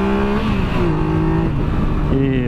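A 2017 Triumph Explorer XC motorcycle engine accelerates hard and loud, with rising revs, a gear change, and another climb in pitch while riding close.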